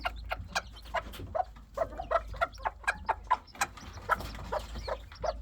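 Newly hatched chicks and a hen in a coop, with a rapid run of short, high cheeps and clucks repeating close by, fairly quiet over a low background hum.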